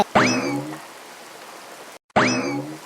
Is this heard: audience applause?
no